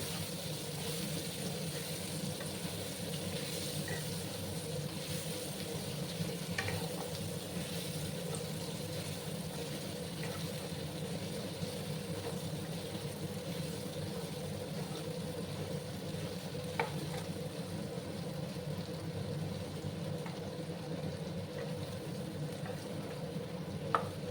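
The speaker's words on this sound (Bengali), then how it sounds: "এবার আমি এই যে শোলা কচুগুলো দিয়ে আবার একটু ভেজে নিচ্ছি বন্ধুরা।" Pieces of giant taro root (sola kochu) frying in a pan for a vegetarian curry, a steady soft sizzle running continuously with faint occasional stirring clicks, no talking.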